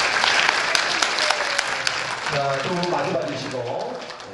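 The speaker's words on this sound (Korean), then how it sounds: "자, 인사 박수." Wedding guests clap steadily throughout a ceremony hall, loud and close, with voices and tonal sounds emerging in the second half.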